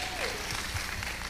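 Audience members at a moms' conference clap for Tony Evans, a steady wash of applause filling the room, with a faint voice briefly audible beneath it.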